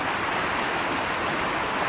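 Fresh river water flows in a steady, even rush at a roadside spot by the river, a constant broadband wash with no breaks and no voices.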